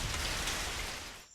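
Dense hiss of heavy cartoon rain pouring down, loud and uniform, then abruptly dropping away at the end.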